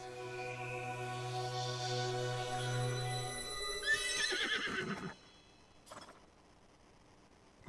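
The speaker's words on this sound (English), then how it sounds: "Let me bring back this horse." A horse whinnies in Breath of the Wild, the video game, as a long harmonic neigh sweeps across the first five seconds and then stops, followed by a brief soft thump and near silence.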